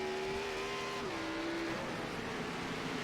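Onboard at Circuit Zolder, a Chevy race car engine holds a steady, fairly quiet droning note that drops in pitch as a gear changes, under constant wind and road noise.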